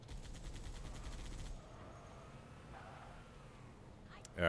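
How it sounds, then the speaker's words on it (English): Rapid machine-gun bursts from the Warthog's mounted turret in Halo 3, a rhythmic stream of shots for the first second and a half, then quieter combat ambience with a sharp sound at the end. "the Marine AI is actually doing a fantastic job of manning the gun and prioritizing the right targets"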